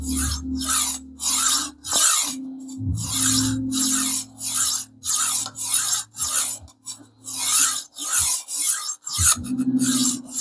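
A long kitchen knife is stroked against a sharpening stone to raise an even burr, giving loud, rhythmic rasping scrapes, roughly a dozen back-and-forth strokes in steady succession, close up with no talking.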